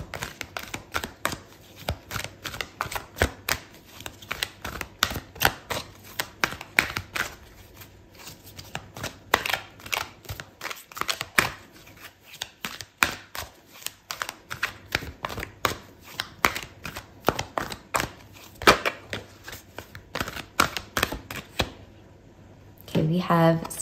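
Tarot cards shuffled and riffled steadily for a long stretch, a dense run of crisp, rapid card flicks and slaps, with a brief lull and a final burst near the end; no talking.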